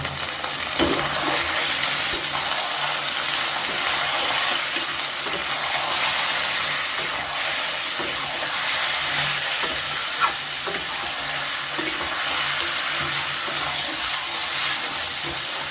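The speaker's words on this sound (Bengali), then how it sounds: "মাটনটা দিয়েও ভালো করে আমি এটা মিশিয়ে নিই" Mutton stirred and mixed in a hot pan, a continuous loud sizzle and hiss with occasional scraping clatter of the spoon throughout, no voices.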